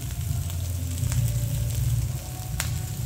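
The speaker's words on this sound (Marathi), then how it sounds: "बटाटा परतलेला आहे, तर त्याच्यात आपण साखर टाकूया।" Potatoes sauté in a hot pan as sugar is added, giving a steady, close sizzle and frying crackle throughout, with a few faint clicks over it.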